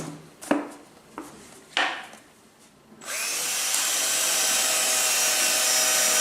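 A power drill bores 4 mm holes in the base of a plastic hornet trap: a few light knocks and handling sounds, then a loud, steady high-pitched whine starts and runs continuously to the end.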